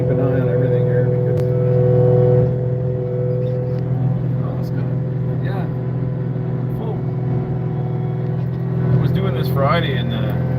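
Caterpillar 259D3 compact track loader rototilling, its diesel engine holding a loud, steady high-RPM drone with slight load variations throughout, heard from close in the cab, while someone talks over it.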